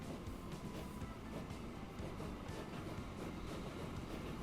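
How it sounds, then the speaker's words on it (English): A train departs in the video game Transport Fever 2, a low rolling rumble with faint clickety-clack and wheel hum, steady and fairly quiet throughout. "But yeah, this train's now leaving."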